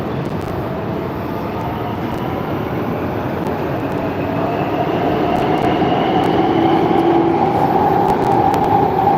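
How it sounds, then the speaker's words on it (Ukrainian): Loud continuous rumble of a train rolling along rails, growing slightly louder, with a rising whine and occasional faint clicks. "Катаються на поїзді РС."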